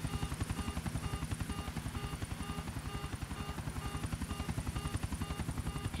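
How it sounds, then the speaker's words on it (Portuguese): Steady, rapid chopping of a helicopter rotor in the video game GTA 4, as the aircraft hovers over water; the beat is even and continuous, moderately quiet, with no talk. "A hélice do helicóptero."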